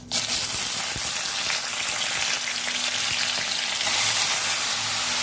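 Banana stem and dried chillies fry in hot oil with a loud, dense, continuous sizzle and crackle, close up, with faint scraping of stirring underneath.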